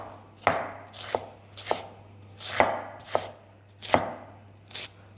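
Sharp knife chopping fresh parsley finely for tabbouleh: seven or so crisp, evenly spaced cuts against a board, close and clear, with a steady low hum underneath and no talking.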